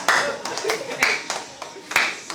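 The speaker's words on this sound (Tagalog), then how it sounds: "Palakpak!" Children clap their hands in a loose, uneven rhythm, about a dozen distinct claps close by, with excited voices calling out in between.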